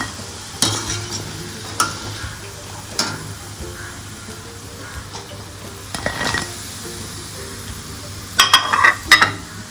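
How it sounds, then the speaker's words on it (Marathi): Fasting-food vadas frying in hot oil, with a soft continuous sizzle broken by occasional clinks and scrapes of a utensil against the pan, and a cluster of louder clatter near the end, no speech. "तर हे सुद्धा आता आपण तळून घेऊया."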